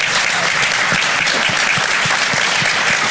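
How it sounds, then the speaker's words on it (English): Audience at a joint city and county council meeting applauding steadily and loudly for Dr. Artis, a dense even clapping with no talk over it. "Please clap for Dr."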